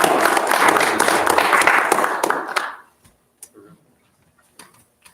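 An audience gives a round of applause as thanks at a church talk on mental health and the spiritual life. Dense, loud clapping runs for a few seconds, tapers off sharply, and leaves a few scattered claps and faint murmurs.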